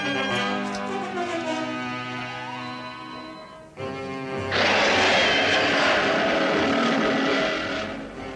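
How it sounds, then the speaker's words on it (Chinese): An aircraft flying in an Ultraman tokusatsu episode, its engine whine droning steadily with shifting pitch, briefly dipping before surging into a louder, rushing roar that persists to the end. "500米处，飞行器可以着陆"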